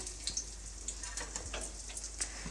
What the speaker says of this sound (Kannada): ಅದಷ್ಟು ಬೆಂಡೆಕಾಯಿನೂ ಸಹ ಎಣ್ಣೆಯಲ್ಲಿ ಹಾಕ್ತಾಯಿದ್ದೀನಿ